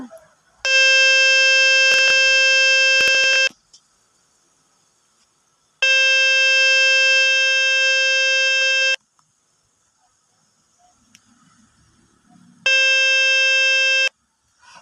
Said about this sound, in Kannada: ಈ ರೀತಿ ಕ್ಲಿಕ್ ಮಾಡ್ಕೊಂಡಾಗ ಒಂದು ಬೀಪ್ ಸೌಂಡ್ ಬರುತ್ತೆ ಕುಯ್ ಅಂತ